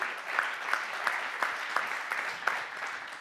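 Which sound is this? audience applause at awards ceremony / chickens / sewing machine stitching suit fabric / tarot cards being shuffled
audience applause at awards ceremony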